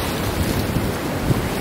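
Ocean waves wash steadily onto a wide beach in Bali at sunset, a broad continuous rush of surf with some wind noise and no voices.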